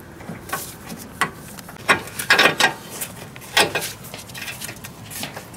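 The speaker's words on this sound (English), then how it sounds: "So we're gonna use a breaker bar on one end and then a combination wrench on the other." Metal tool clicks and clanks from a breaker bar and combination wrench working on a DeLorean trailing arm bolt, a few sharp close knocks and ratchety rattles spaced irregularly with quiet gaps between.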